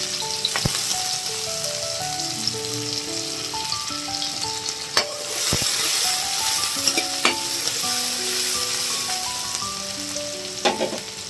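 Chopped onion sizzles loudly in a frying pan as an egg is cracked in, with steady frying hiss, scraping stirs and a few sharp clinks of a spatula against the pan.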